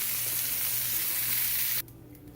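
Pork tenderloin searing in a hot pan gives a loud, steady close sizzle that cuts off abruptly near the end, leaving a quieter hiss.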